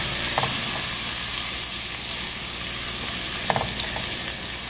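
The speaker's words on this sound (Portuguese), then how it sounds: "Não precisa deixar o alho queimar, só dá uma douradinha bem de leve, ó, começando a querer dourar." Garlic and onion frying in a pan for polenta, giving a loud, steady, close sizzle with a few faint stirring clinks and no talking.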